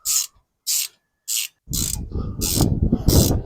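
A ratchet snugs caliper bracket bolts on a 2008 Ford Mustang: three short bursts of clicking, then a longer stretch of rapid ratcheting layered over a rubbing, mechanical rumble, close and fairly loud.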